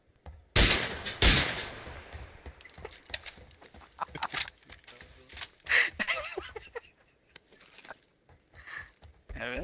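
Gunshots in a tactical shooter video game, a couple of sharp loud blasts early followed by scattered quieter shots and clatter, with voices talking over parts of it.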